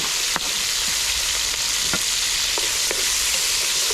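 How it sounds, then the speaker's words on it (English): Pumpkin and carrot sauté in a pan over a bamboo wood fire, giving a steady close sizzle and hiss throughout, with a few faint clicks and crackles of the burning bamboo. "Saute the pumpkin and the carrot."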